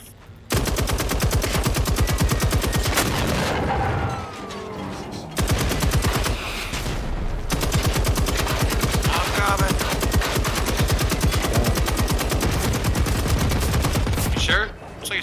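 Sustained automatic gunfire in the video game Generation Zero, loud rapid bursts running nearly the whole time with brief pauses, with faint voices in the background.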